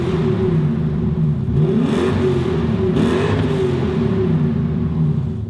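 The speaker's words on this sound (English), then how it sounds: "it's a Lexus V8, and it was made for like their luxury cars, like the LS400 and the SC400" A Lexus V8 engine of the type built for the LS400 and SC400 luxury cars revs loudly and close by, a deep, steady rumble that surges twice, with no talking.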